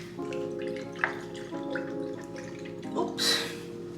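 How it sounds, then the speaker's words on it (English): Sugar water is poured while making a homemade vegan drink, with small trickling splashes and drips in short uneven bursts, close by and fairly soft, ending in a brief louder splash. "adding my sugar water"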